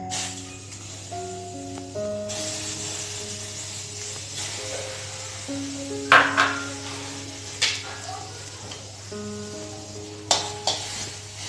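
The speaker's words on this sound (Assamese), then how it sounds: "তিলখিনি কেৰাহীত ভাজি লওঁ" Sesame seeds fry in a wok with a soft, steady sizzle while being stirred, broken by several sharp scraping clacks of the spatula against the pan; background music plays throughout.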